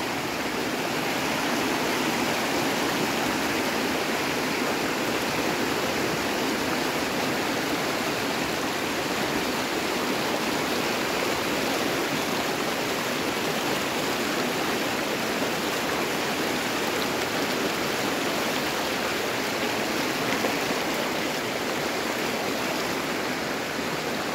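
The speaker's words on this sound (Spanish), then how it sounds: "ahorita voy cruzando aquí el río" A river swollen after heavy rains rushes in a steady, loud, unbroken roar of flowing water, heard close by as it is crossed, with no voices.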